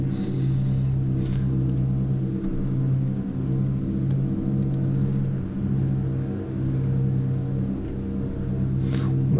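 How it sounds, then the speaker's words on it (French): Steady droning of twin piston engines on a BN-2 Islander being throttled up in a flight simulator game, a continuous loud hum with even rhythm throughout and no talk. "On va pousser un peu les moteurs."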